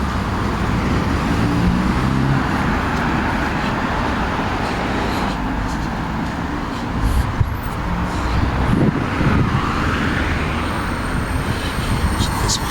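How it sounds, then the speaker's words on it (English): Steady road traffic on Mitcham Road, a busy urban street, rumbles continuously at close range with passing vehicles swelling and fading, broad wash of engine and tyre noise throughout. "quite a lot of traffic."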